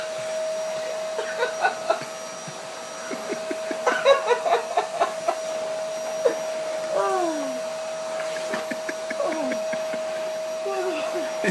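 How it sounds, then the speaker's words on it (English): A vacuum cleaner runs continuously with a steady motor whine, loud and close, while people's voices and laughter come through intermittently over it. "Just hoover it."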